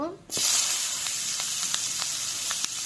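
Onions go into hot oil in a pan for a raw hilsa fish dish, a sudden loud burst of sizzling that settles into continuous frying with faint stirring clicks.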